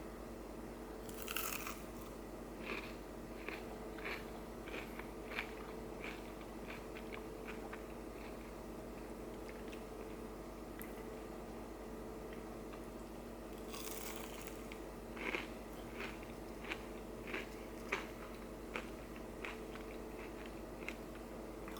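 Crunchy hash brown topped with ketchup being bitten and chewed close up, a steady run of crisp crackly crunches with louder bites scattered throughout, no talking.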